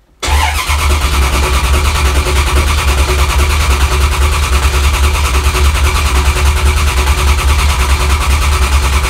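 A carbureted V8 race engine in an S10 pickup, a small-block LT1 Gen 2, runs steadily for about nine seconds after a brief start, giving a loud, close, continuous low mechanical drone with no speech over it.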